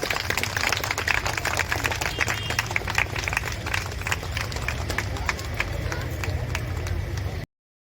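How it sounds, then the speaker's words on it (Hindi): Audience clapping at a Netaji Subhas Bose memorial ceremony in Musabani, Jharkhand, a dense steady patter of many hands that holds loud and even throughout, with a low crowd murmur beneath. "ताली जोरदार होनी चाहिए।"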